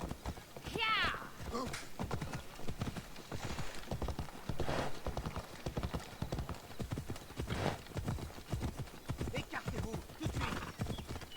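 Rhythmic video game horse hoofbeats clip-clop steadily throughout, with a horse whinnying briefly near the start, under frequent overlapping talk.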